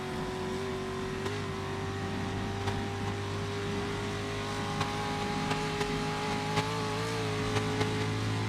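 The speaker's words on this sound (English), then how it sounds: "The engine just hitting the red line" A race car engine in a 3-litre class on the Isle of Man time trial course, holding a steady high drone near the red line with slight pitch shifts, heard from inside or near the car.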